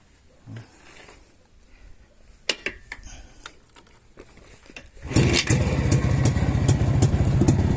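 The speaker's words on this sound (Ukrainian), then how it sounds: "Так, працює 250-ка." A 1963 JAWA 250 motorcycle, already warmed up, gives a few clicks and knocks, then its engine catches and runs with a loud, close, rapid two-stroke putter.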